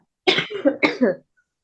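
A single close, hoarse cough in a few quick bursts, then silence.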